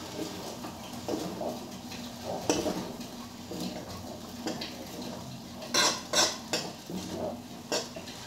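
Chow mein noodles are stirred in a pan, with a utensil clinking and scraping against metal in irregular bursts, close and moderately loud over a soft background.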